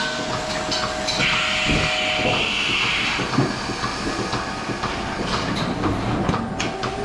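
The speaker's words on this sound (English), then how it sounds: "So this is the teacup cleaner solution actually coming out." A DeLaval milking robot sprays teat cup cleaner solution, giving a continuous loud hiss and spray over steady barn machinery noise, with a few clanks.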